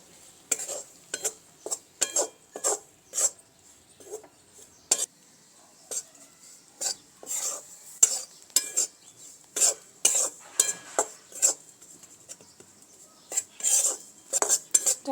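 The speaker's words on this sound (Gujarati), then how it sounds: "તે તેલમાં આપણે આ ચણાનો લોટ ઉમેરી દેવાનો છે અને તેને શેકી લેવાનો છે" A spoon repeatedly scrapes and clanks in a pan while gram flour is roasted in a little oil, giving irregular metallic strokes in quick bursts with quiet gaps between them.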